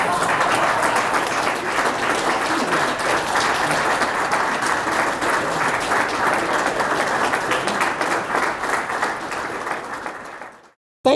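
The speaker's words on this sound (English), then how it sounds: "someone who we can all give a loud round of applause to" Sustained audience applause fills an honoring ceremony, a dense steady wash of many hands clapping at a consistent loud level for about ten seconds before cutting off abruptly into silence.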